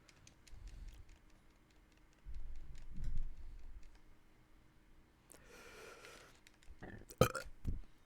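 A streamer's burp during a livestream of a fight series, a short loud gulping belch near the end that rises sharply above faint background clicks and murmured talk earlier.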